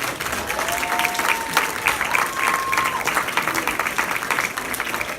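Steady audience applause fills a comedy show at the Funny Bone in Albany, dense continuous clapping lasting several seconds with a few thin tonal whistles riding above it.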